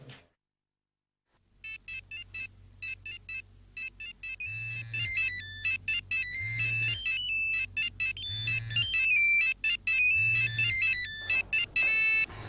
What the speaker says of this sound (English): Sir, the phone is ringing from one of the rooms.